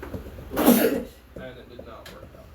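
A single loud sneeze bursts out mid-clip, breathy and close, with people talking before and after during a Dungeons & Dragons game session.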